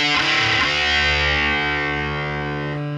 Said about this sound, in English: You have the drive control that enables you to go from sort of more tame levels of distortion